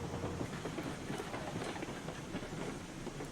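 A game train in Railroads Online eases to a stop at a switchback, giving a faint, soft rolling rumble with light clicking and a low hiss throughout.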